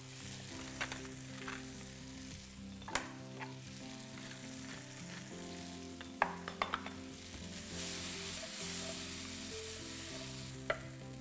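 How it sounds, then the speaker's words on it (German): Tomatoes fry briefly in hot peanut oil in a pan, giving a soft continuous sizzle broken by a few sharp clicks and spatters, quiet and close with no talking. "Wir erhitzen etwas Erdnussöl in einer Pfanne und braten zuerst die Tomaten ganz kurz an"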